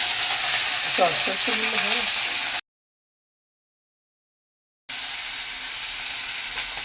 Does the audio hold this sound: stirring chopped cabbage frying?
yes